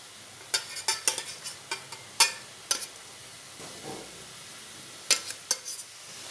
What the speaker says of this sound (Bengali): আলুগুলো দিয়ে 2 মিনিট একটু কষিয়ে নেব।